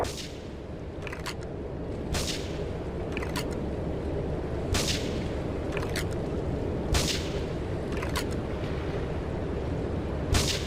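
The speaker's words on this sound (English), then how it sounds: "Investigate reports of gunfire and explosions." In the game GTA III, a string of sharp gunshots and booming explosions bursts out at irregular intervals over a steady rumbling background, loud and close, with no voices.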